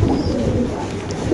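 Fancy pigeons cooing, a steady run of low throaty coos close up, fairly loud with mild background hum.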